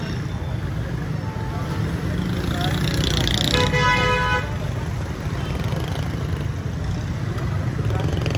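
Busy street traffic during Ramadan, with steady road rumble and a bright car horn toot near the middle, faint chatter in the background.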